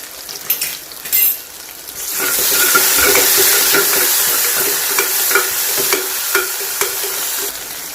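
Chopped tomatoes, green chillies and ginger garlic paste fry in a pan for egg biryani. A loud sizzle bursts in after a few clanks, then a steady hiss continues with spoon scrapes and stirring taps.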